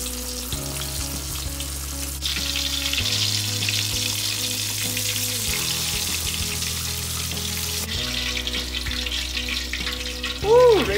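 Black pomfret fries in hot oil with a constant loud sizzle and crackle, a low hum running underneath and occasional shifts as the fish is moved.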